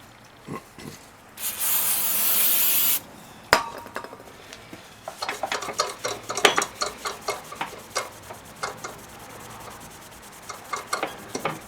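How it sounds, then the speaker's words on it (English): Aerosol brake cleaner sprays in one steady hiss of about a second and a half onto a Mastercraft (MTD) snow blower's parts, then metal parts clink and rattle as the workshop work goes on. "A little more brake clean."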